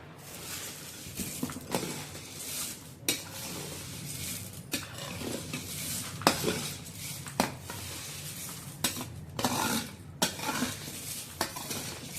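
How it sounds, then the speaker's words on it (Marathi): A large spoon scrapes and clanks around a big metal pot, tossing a dry, rustling puffed rice chivda mixture in irregular strokes with occasional sharper knocks. "आपण सगळं हे जे आहे छान असं मिक्स करून घ्यायचं मुरमुऱ्यामध्ये एका मोठ्या टोपमध्ये किंवा भांड्यामध्ये"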